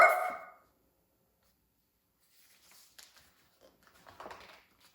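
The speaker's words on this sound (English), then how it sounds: "They were taught to yip, never yap." Cartoon puppies give one loud yip at the start, then after a pause come several faint, scattered small barks and yaps.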